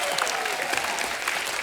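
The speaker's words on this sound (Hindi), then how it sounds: "सोनम जी के लिए जोरदार तालियां" Studio audience applauding a guest named Sonam on a TV comedy talk show: a loud, steady burst of dense clapping throughout, close and continuous with no talk over it.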